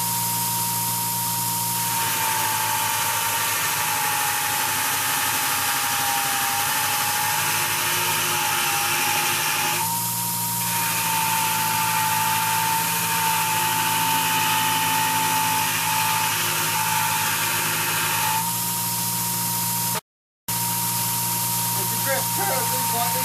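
A bench grinder grinds unhardened steel with a steady high motor whine and a constant abrasive hiss. The pitch shifts slightly as contact changes, and there is a brief dropout near the end.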